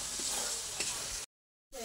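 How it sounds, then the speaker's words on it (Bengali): Tomatoes frying with spices in a pan give a steady close sizzle with some stirring, which cuts off abruptly and then resumes briefly. "এবার খুব ভালো করে মশলার সাথে টমেটোটাকে কষিয়ে নেবে।"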